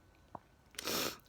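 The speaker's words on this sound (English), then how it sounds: "Still sneezing." A single short sneeze bursts out near the end, preceded by a small click, fairly quiet and close in an otherwise still room.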